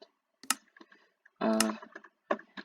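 Sparse keyboard clicks and key taps come in small bursts close to the microphone, with a short muffled noise in the middle and quiet between strokes.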